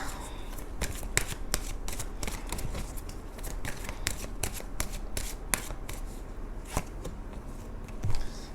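Romance Angels oracle cards being shuffled by hand, a steady run of close, crisp riffling and flicking card sounds over several seconds, with no talking.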